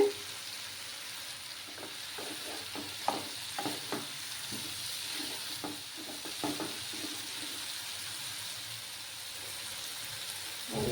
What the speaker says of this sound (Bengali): মশলাটা ভালোভাবে কষাতে হবে।